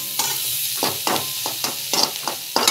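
Cinnamon sticks hit hot oil in a pan with a steady, hissing sizzle, and a series of rhythmic stirring scrapes and clinks punctuate the frying up close.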